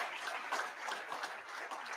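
A crowd at a formal gathering gives a round of applause, a faint, even patter of many hands clapping that runs steadily throughout without voices.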